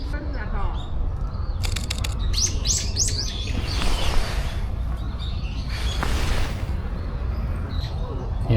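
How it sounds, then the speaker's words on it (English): Birds chirping in the trees of Shakujii Park, Japan: quick bursts of sharp tweets over a steady outdoor hum, while someone talks nearby. "Even behind me, there's a lot of birds."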